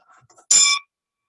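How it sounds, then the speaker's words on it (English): A single bright strike of a formal bell closing a club meeting rings out clearly and close, then cuts off quickly after a short ring. "I will end this meeting number 13 for our club, with the ringing of the formal bell."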